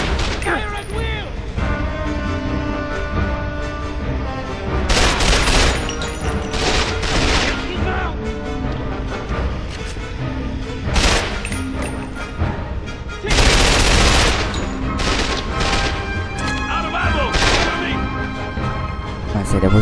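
Gunfire from the Quantum of Solace video game's Sink Hole level, with dense bursts of shots, booming impacts and loud rapid volleys repeating throughout amid music and battle noise.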